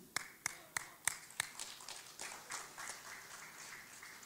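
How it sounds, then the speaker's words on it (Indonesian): Half-hearted applause at a church-style gathering: five distinct, evenly spaced single claps ring out first, then a thin, scattered patter of quieter clapping from a few hands trails off, fairly faint and distant. "Tepuk tangannya tidak ikhlas"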